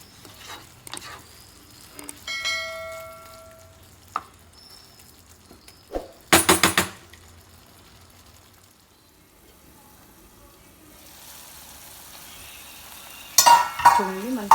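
Okra curry with ginger garlic paste sizzles faintly in a pan while a spoon scrapes and clatters against the metal in a few short bursts, with quieter stretches of low cooking noise between them.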